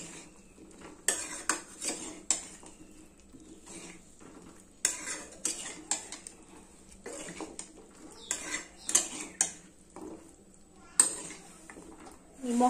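Chicken, carrots, beans and potatoes are stirred while frying in a pan, with repeated scraping and clinking of a utensil against the metal and a faint sizzle between the strokes.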